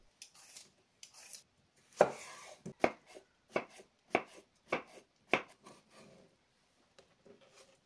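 Knife chopping green beans, spring onion, cilantro and cucumber on a board for Indonesian fried rice, a run of sharp, close cuts in irregular bursts, some quick pairs and some spaced apart, with short quiet gaps between.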